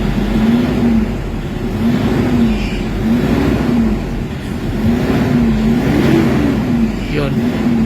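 Toyota Hilux engine revving repeatedly after a low-power throttle delay repair, rising and falling in a steady cycle of rpm swells, loud and close, with someone talking over it.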